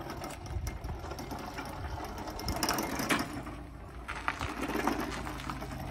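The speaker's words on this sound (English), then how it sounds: "Chains make a lot of noise." Chain drive on a remote-controlled electric lawn mower built from recycled parts, giving a steady mechanical whirring and rattling clatter that swells and eases as the machine runs and changes direction, fairly close and loud with no talk.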